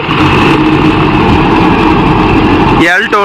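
A Mahindra 605 Novo diesel tractor engine runs at 1500 RPM under load with a loud, dense, steady rumble close by, pulling a rotavator through farmland, and a voice speaks briefly over it near the end.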